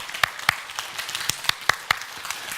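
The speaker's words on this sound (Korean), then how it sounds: "큰 박수를 부탁드리겠습니다." Scattered, light applause from a small church congregation during an afternoon prayer-house dedication worship service: a few sharp individual claps spaced irregularly over a soft background murmur.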